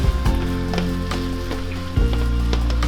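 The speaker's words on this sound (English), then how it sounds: "we're gonna add in our 3 cloves of garlic. And we're gonna saute this for just about a minute" Browned ground beef and three cloves of garlic sautéing in a pan, giving a loud, steady close sizzle with occasional light scrapes and taps of stirring, with no voices.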